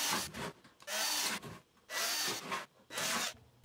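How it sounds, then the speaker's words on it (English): A power drill bites into a vent pipe in three short bursts, separated by brief pauses, close and gritty with a grinding rasp. "drill a hole right in the center"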